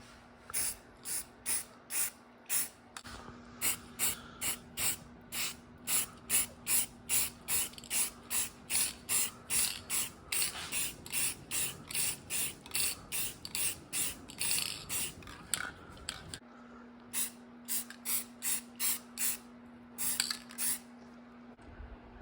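Spray can applying a final coat of primer to 3rd gen Toyota 4Runner engine parts, a long series of close, loud rhythmic hissing bursts with short gaps between them.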